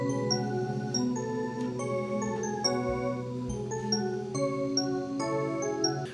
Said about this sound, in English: which was this free alpha preset, the glass pad key preset